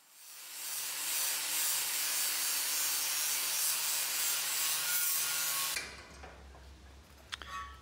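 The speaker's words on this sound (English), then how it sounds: "I then switched to a flap disc to clean the paint and any corrosion off on the outside" A flap disc on an angle grinder strips paint and corrosion from a steel trailer tongue, a loud, steady hissing grind for several seconds that cuts off abruptly, followed by a few faint clanks.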